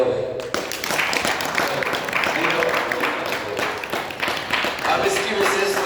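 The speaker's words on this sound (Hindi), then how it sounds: "ताली बजाओ भाई।" A group clapping hands during a yoga session, quick uneven claps at close range running under a man's speech for several seconds.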